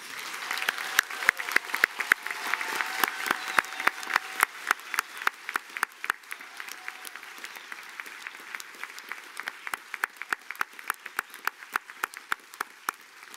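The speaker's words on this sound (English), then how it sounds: "give a final special round of applause to all our graduates here and" An audience at a Griffith College graduation ceremony gives the graduates a final round of applause, a sustained wash of many hands clapping with sharp individual claps standing out, holding steady for about thirteen seconds.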